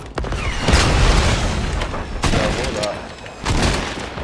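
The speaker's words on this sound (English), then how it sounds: "They're shooting rockets at me." Rockets fired and exploding during a duo match in a shooter video game, several loud booming blasts in quick succession layered over rumbling gunfire, with players talking over the action.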